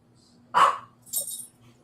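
Dogs fighting over food let out a short, sharp bark followed by a brief higher yelp, both close and fairly faint against a quiet background hum.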